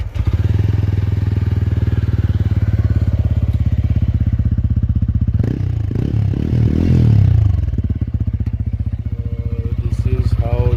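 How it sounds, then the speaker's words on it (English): A TVS Ronin motorcycle just started, idling loudly and steadily up close with a deep thumping exhaust beat, then a brief blip of revs and some clatter around the middle before it settles back to idle. "This is how the TVS Ronin sounds."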